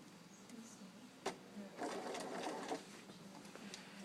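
A sewing machine runs a standard straight stitch through fabric while setting in a sleeve, with a steady mechanical whirr and a few sharp clicks, close and moderately loud, with no talk.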